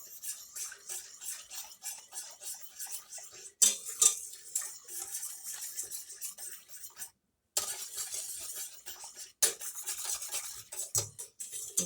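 A utensil scrapes and clinks against a pot while blueberry cream pie filling is stirred, irregular close metallic scraping with brief gaps and louder knocks, and no talking over it.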